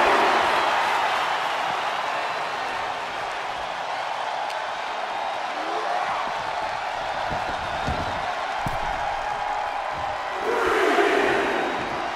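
Arena crowd in the WWE 2K24 wrestling game roaring and cheering in a continuous wash throughout, swelling louder near the end, with scattered thuds beneath.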